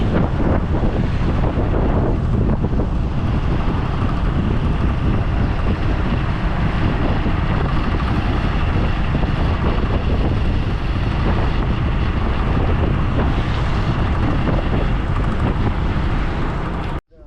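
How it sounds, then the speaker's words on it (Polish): Light wind buffeting the microphone outdoors in Kampot, a loud, continuous low roar that masks everything else until it cuts off at the very end. "a dzisiaj taki lekki wiaterek jest, być może będzie, będzie słychać"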